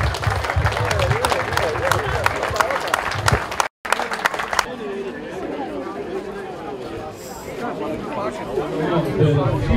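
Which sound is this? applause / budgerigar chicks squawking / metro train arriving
applause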